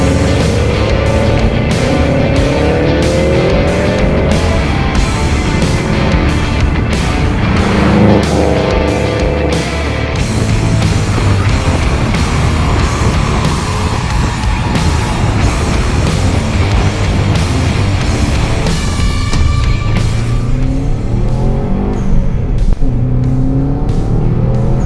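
Turbocharged Subaru Impreza WRX with aftermarket wheels, tires and adjustable suspension, its engine revving hard and pulling through repeated gear changes, loud and close with rising and falling engine pitch.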